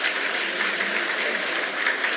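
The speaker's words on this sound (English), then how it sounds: "He's got a round of applause from the home fans as Robinson is dispossessed." Home fans applauding at a Sheffield United versus Bristol City Championship football match, a steady broad wash of clapping from a large stadium crowd sustained throughout without a break.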